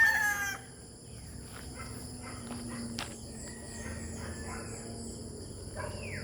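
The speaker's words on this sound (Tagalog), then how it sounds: "Puro manukan yan guys." Chickens at a farm's coops cluck faintly with a short crow early on, scattered calls and shuffling over a steady insect buzz in the background.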